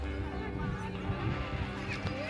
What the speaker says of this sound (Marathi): हे जे आहे बाळूमामाचा घोडा आहे हे पालखीतला घोडा आहे